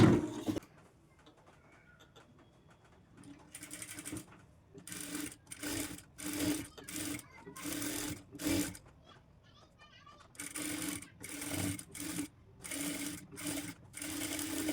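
A sewing machine stitches blouse fabric in repeated bursts of close, rapid whirring, each a second or so long and separated by short pauses, with quieter handling sounds in between.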